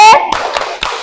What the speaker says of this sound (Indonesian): Sekarang boleh dong kita kasih tepuk.